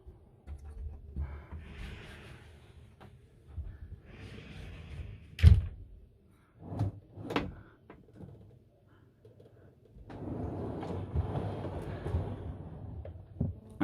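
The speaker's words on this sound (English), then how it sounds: "Right, let's open the door now." The door of a Carthago Chic C-Line i4 motorhome being worked, with several sharp clunks and latch clicks, rustling movement and faint talk, then a broader shuffling noise near the end, quiet overall.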